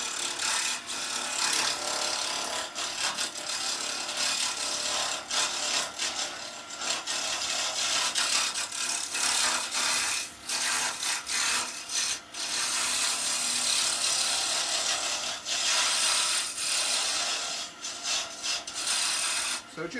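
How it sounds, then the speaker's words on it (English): A woodturning gouge cuts a spinning pen blank on a lathe, first roughing and then slicing like a skew, producing a steady, loud, continuous raspy scraping hiss with brief dips as the tool lifts off the wood. "just using the gouge as a roughing gouge and then as a skew before we get the true skew to do its job"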